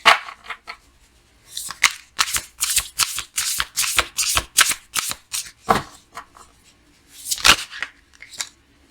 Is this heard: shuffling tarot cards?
yes